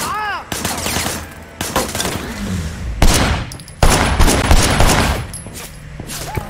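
Loud bursts of gunfire ring out in the Sleeping Dogs game on PS4, several sharp shots and volleys with echoing tails, mixed with other action noises and a brief shout.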